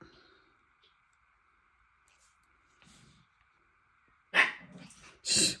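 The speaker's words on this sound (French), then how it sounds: "Vous avez entendu cet aboiement puissant?" A dog gives two loud, sharp barks close by near the end, after a quiet stretch with a faint steady hum and a little soft noise.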